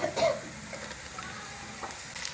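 Finely chopped tomatoes tipped into onions frying in a pan set off a steady close sizzle, with a brief burst as they land and light stirring scrapes over the hiss.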